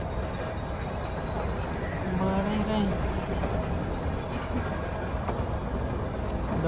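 The Ooty mountain toy train runs with a steady, even rumble of carriages on the rails, heard from on board with a faint whine above it.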